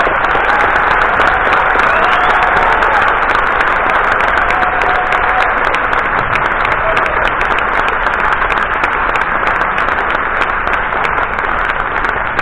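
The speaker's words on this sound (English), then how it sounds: "give them the biggest applause" Loud, sustained applause from a festival audience greeting two presenters called on stage, a dense, even wall of clapping that continues steadily throughout.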